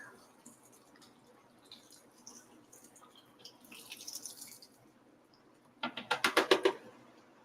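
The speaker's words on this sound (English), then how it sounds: "I'm going to pour in this chicken stock" Chicken stock splashes into a pot of cabbage in a home kitchen, a short burst of liquid gurgling and sloshing after a quieter stretch of faint clatter.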